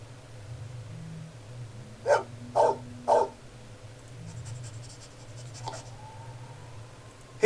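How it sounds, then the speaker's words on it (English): A dog in the Blade Runner video game gives three quick barks in a row, fairly close, over a low steady hum of game background sound. "Here's my puppy."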